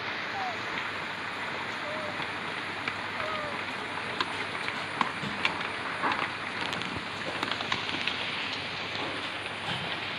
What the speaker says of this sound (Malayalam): ഇങ്ങോട്ട് നല്ല മഴയാണ് മഴ എന്ന് വെച്ചിട്ടുണ്ടെങ്കിൽ മഴയാണ്